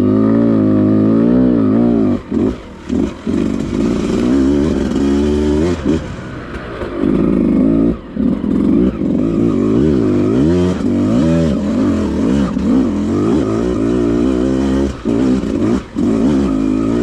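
A 2020 Beta 200rr dirt bike engine revs loudly and close on a hillside trail, with rising and falling two-stroke pitch, throttle blips and brief dips throughout.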